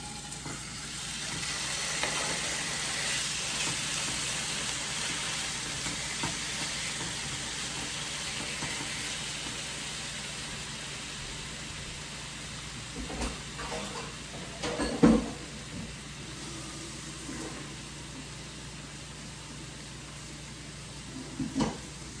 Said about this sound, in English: We're going to add our beef into the pan and we're going to brown it